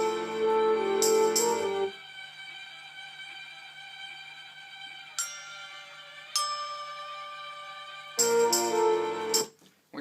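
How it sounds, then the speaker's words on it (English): Can opener scraped across guitar strings gives a high, metallic scratching wash over sustained tones, with dense bursts near the start and end and sharp scrapes in between, close and fairly quiet. "I added some can opener guitar that sounds like this"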